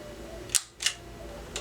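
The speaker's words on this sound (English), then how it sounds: "So that's the shutter sound for this camera." A film camera's shutter fires close by: two crisp sharp clicks about a third of a second apart, then a fainter third click, over quiet room hiss.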